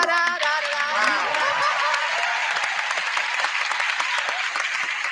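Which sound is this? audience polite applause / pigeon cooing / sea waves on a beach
audience polite applause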